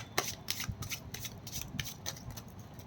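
A deck of tarot cards is shuffled by hand, giving quiet rapid riffling and flicking in quick bursts close by.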